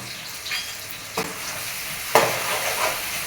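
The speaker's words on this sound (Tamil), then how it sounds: "நல்லா வதக்கிக்கங்க" Ginger garlic paste and black pepper sautéing in a pan for spicy prawn thokku, a soft steady sizzle broken by two sharp stirring scrapes, close and moderately quiet with no talking.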